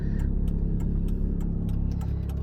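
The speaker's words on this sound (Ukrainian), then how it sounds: "Завчасно вмикаємо правий покажчик повороту у місці, це 50-100 метрів." A car's turn signal ticks in an even, regular rhythm inside the cabin, over a low steady engine and road hum, on a driving-test exam route.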